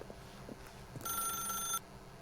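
A telephone rings once in The Stanley Parable video game, a bright electronic trill lasting under a second, clear over a quiet background.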